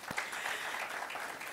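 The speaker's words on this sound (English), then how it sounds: "I think that deserves a better round of applause" Audience applause fills a results briefing hall, a steady wash of many hands clapping together at moderate level for the whole stretch, with no one speaking.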